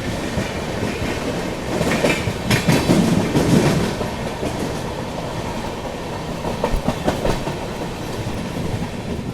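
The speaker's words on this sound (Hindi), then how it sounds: "स्टेशन एग्जिट करते करते अच्छी खासी रफ्तार ट्रेन ने पकड़ ली है।" Darjeeling Mail passenger train hauled by a WP7 locomotive gathering speed out of a station, heard from inside as a loud steady rumble with rhythmic clickety-clack of wheels over rail joints.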